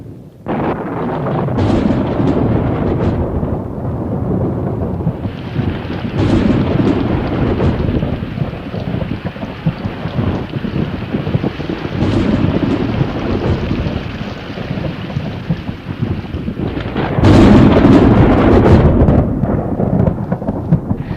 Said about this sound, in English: As the moisture-laden clouds pile up against the mountains,